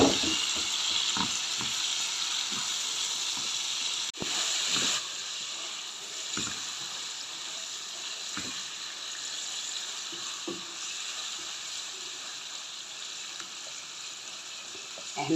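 Liver frying in a hot pan, a continuous sizzle with scattered scrapes and knocks as the pieces are gently stirred and turned, close and steady with no talking.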